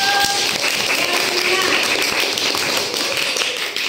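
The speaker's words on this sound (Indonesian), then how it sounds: "tepuk tangan Oktari dulu" A primary school class applauds a student, with dense, fast clapping from many hands close by, steady for a few seconds, mixed with children's voices in the room.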